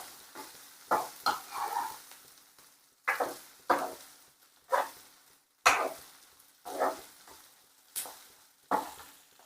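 Onions fry in a pan for idli upma, stirred in repeated short scraping, sizzling bursts about once a second, close and moderately loud, with no voices.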